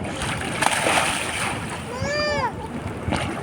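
A child swims and splashes in a large swimming pool, repeated water splashes under excited voices and shouting, with a brief high squeal partway through.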